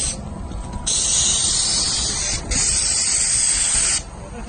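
Spray foam hisses from a spray gun onto a metal roof in two long, loud bursts separated by brief pauses, with a quieter hiss before and after.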